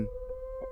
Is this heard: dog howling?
yes